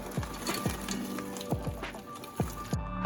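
Green beans dropped into a hot frying pan around honey garlic chicken, a steady close sizzle with repeated soft crackles and pops.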